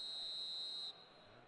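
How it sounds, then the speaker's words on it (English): A referee's whistle in the PES 2021 football video game during a Trabzonspor vs Sivasspor Süper Lig match, one long sustained shrill blast that cuts off abruptly over faint crowd ambience. "And the whistle's gone, presumably for offside."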